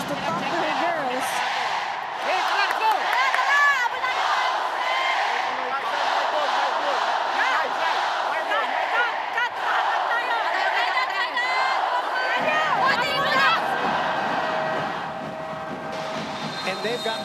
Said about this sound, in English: got the crowd riled up here.